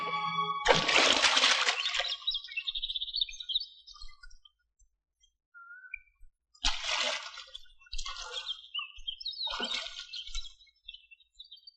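Water splashing in bursts at a river bathing ghat: one long splash, a quiet gap, then several shorter sloshing splashes close by, no talking.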